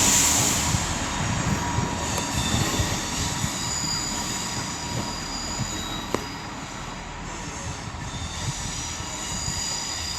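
A Class 158 diesel multiple unit rolls through Wolverhampton station on the West Coast Main Line, a loud, steady engine drone and rumble of wheels filling the whole stretch, with one sharp clank partway through.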